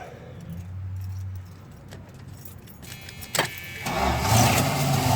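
Keys jangle near the ignition of a 1979 Chrysler 300, then its 360 cubic-inch V8 cranks and catches, settling into a loud, rough idle through an exhaust with a slight leak.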